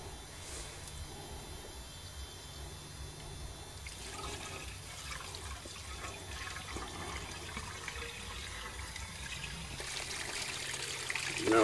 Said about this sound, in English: I got a bucket I got to prime it with first